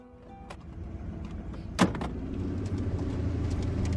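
A car door thumps shut and an engine starts, settling into a steady low idle hum. The car is the vehicle Joel and Ellie set off in, and no one speaks.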